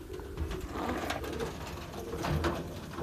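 New York Flights pigeons, a domestic flying breed, coo softly and repeatedly at close range, with low murmuring and light rustling, no talk.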